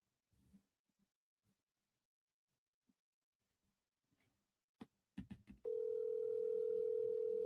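A few faint clicks and taps on a telephone while dialing a seller, then a loud, steady electronic phone line tone begins and holds to the end.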